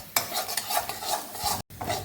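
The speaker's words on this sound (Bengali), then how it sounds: "এটাকে ভালো করে নেড়ে চেড়ে এখন" A spoon stirs mashed yardlong beans in a hot pan, giving repeated scraping strokes over a soft sizzle, close and fairly loud, with a brief silent break near the end.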